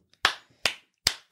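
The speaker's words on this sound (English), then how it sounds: "Clapping." Four separate hand claps, crisp and fairly close, evenly spaced about 0.4 seconds apart with nothing else under them.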